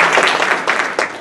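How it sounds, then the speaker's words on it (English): A brief burst of audience applause at a state auditor's audit rule training session, a short wash of many hands clapping with slight swells, heard alone. "how about a round of applause for my former team member who got that as deputy secretary?"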